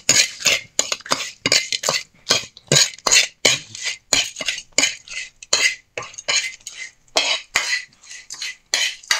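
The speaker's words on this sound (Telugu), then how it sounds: "వేసిన తర్వాత ఇప్పుడు కలుపు శివ." A metal spoon scrapes and clinks rhythmically against a pan while tempering spices, including peppercorns, are stirred: a loud, close series of rapid, regular scraping strokes with no talking.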